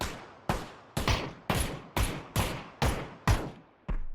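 Gunfire in the battle royale game PUBG: nine sharp, evenly spaced shots about half a second apart, each with a short decaying tail, loud and isolated with no talk.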